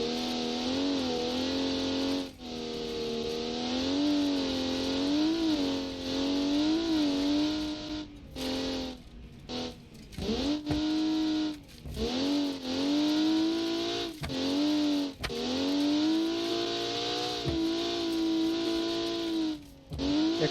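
A loud, droning engine on the tank car from the Mad Max video game, revving up and down in repeated surges over about twenty seconds, with brief dips and cuts between bursts.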